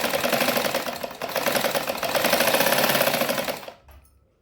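A sewing machine top-stitches a saree border, a close, loud, steady rapid whir of needle strokes that runs for a few seconds, then abruptly stops and leaves near silence.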